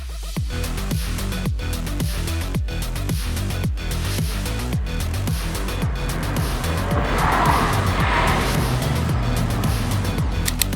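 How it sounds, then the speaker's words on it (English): Skoda Octavia RS 2025 front-wheel-drive sedan taking a moose-test obstacle on a track, engine revving hard in rapid rhythmic pulses as tires squeal through the swerve, loud and continuous. "In this famous Moose Test obstacle, the Octavia RS did come out with flying colors."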